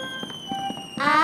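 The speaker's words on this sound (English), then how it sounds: "Fireworks are beautiful. They make all kinds of shapes." Cartoon fireworks burst in a night sky, with a run of short popping cracks followed by a louder, bright crackling shower near the end. Whistling tones and music sit underneath, and no one speaks.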